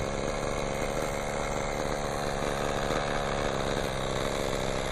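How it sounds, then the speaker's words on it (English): A power drill drills out a hole, whining steadily and loudly at close range for the whole stretch, with no pauses. "I gotta drill the hole out."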